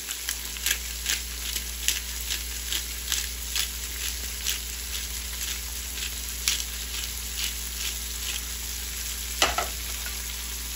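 Calabacitas seasoned with garlic powder and black pepper being stirred in a frying pan, a steady sizzle with repeated soft scraping strokes of the spoon at a regular rhythm, close and fairly quiet.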